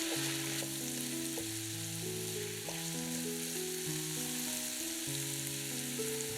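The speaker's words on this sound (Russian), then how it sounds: "Обжариваем лук с грибами примерно 2-3 минуты." Onions and mushrooms fry in vegetable oil in a pan, giving a steady, soft sizzle that runs under louder background music.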